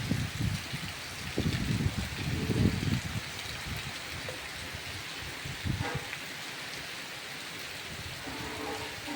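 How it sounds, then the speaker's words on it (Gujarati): Torrential rain pouring over flooded farm fields: a steady, fairly soft hiss of downpour with occasional denser patches, heard from a moderate distance without talk. "હજી તો ચાલુ જ છે અંધરાધારો વરસાદ"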